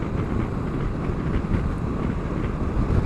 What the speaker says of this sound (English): bit of wind noise but no buffeting as such